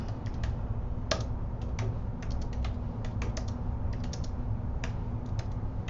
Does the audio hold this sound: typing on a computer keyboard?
yes